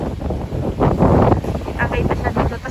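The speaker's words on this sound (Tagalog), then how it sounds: "ang sobrang lakas na hangin" Strong wind gusts across a city rooftop, roaring and buffeting the microphone in loud uneven waves, with someone talking under the rush.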